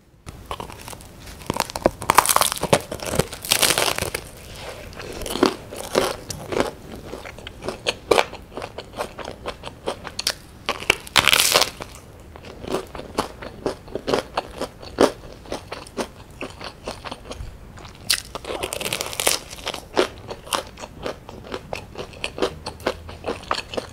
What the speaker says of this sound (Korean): 오늘 먹을 것은 백다방 베이커리에서 산 여러 가지 빵들입니다.